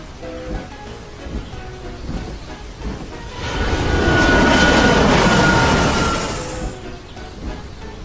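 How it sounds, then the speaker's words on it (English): A jet plane comes in to land, its engine roar swelling from a low background into a loud, broad rushing whoosh that peaks midway and then fades, with rain-like noise beneath. "Whoosh! A jet plane was coming in to land."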